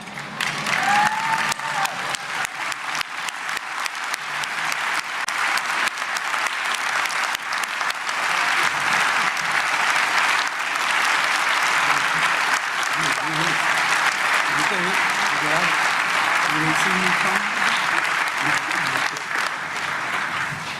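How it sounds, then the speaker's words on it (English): A standing audience at the DeKalb County State of the County address claps loudly and continuously for around twenty seconds, a thick, sustained wall of applause with murmured voices and cheers mixed in. "as a round of applause, everyone, I want you to stand to your feet"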